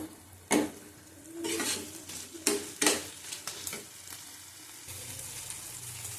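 Ghugni, a boiled pea curry, stir-fried over high heat in a pan, with sharp sizzling bursts as a spoon scrapes and turns it, then a lower steady crackle, no talk.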